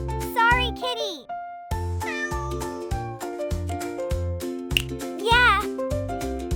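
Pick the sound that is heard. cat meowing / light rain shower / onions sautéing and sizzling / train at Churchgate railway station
cat meowing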